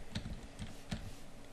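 Keys on a computer keyboard are tapped in a short, quiet burst of a few soft clicks, close by, with no talking.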